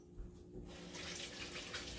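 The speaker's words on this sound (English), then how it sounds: "so let me rinse my hands off" Hands rinsed under a running kitchen tap, a quiet start followed by a steady splashing stream of water that carries on to the end, close and soft, with no talk.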